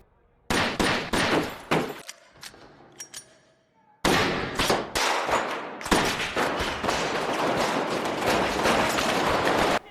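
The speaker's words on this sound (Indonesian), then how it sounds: "adegan tembak-tembakan pun terjadi" Rapid bursts of loud gunfire crack in clusters in a film shootout scene, pause briefly with scattered shots, then resume in a sustained, dense barrage.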